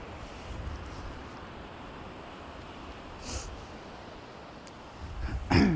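Steady wind roars across the microphone on the Holderness coast near Easington, a constant rushing blow with a brief louder gust near the end.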